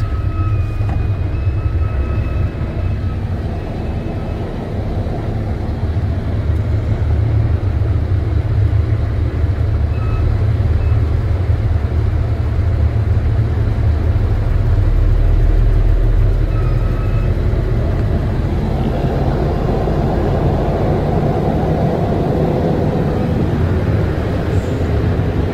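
A delivery truck cruising slowly around an empty freight terminal in North Carolina, giving a steady, loud low engine and road rumble heard from inside the cab with no voices.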